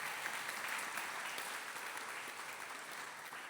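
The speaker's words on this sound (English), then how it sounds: "Give her a big round of applause." Steady, dense applause from an audience for a young girl singer at a gathering in Auckland, New Zealand, a sustained wash of many hands clapping at even loudness from start to finish.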